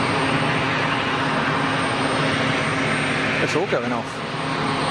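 Aircraft engines at Geneva Airport make a loud, steady roar that fills the whole stretch, with someone speaking briefly over it near the end.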